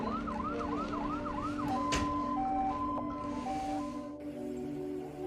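Wailing ambulance siren in a city street during the COVID crisis, first a rapid yelp sweep then a slower two-tone wail, loud and continuous over steady traffic rumble with no talking.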